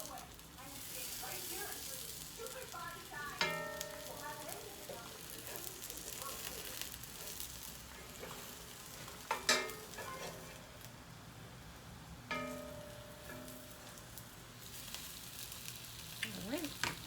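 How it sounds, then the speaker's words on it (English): Brisket birria tacos sizzle steadily in hot oil after being flipped, a continuous close crackle with occasional sharper pops and brief tool clatter, as a person talks. "now I'm going to carefully flip."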